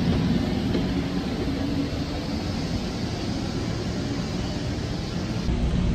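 Coaster commuter train in San Diego rolling steadily along the rails, a continuous loud low rumble of wheels and car noise with faint rattles, steady throughout with no talking.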